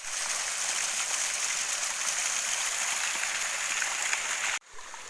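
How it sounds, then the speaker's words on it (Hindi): Irrigation water pours steadily down a channel toward rice paddies being planted in a hill village, a constant close rushing hiss that cuts off abruptly near the end. "तो ये पानी लगा हुआ है, ये पानी जाता है यहाँ से होते हुए सीधे और सीधे वहाँ नीचे शेर में।"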